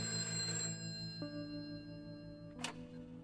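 Telephone ringing during a phone call in the prison-escape video game A Way Out, a few electronic tones sounding at moderate level over a steady background hum, one brief bright burst near the end.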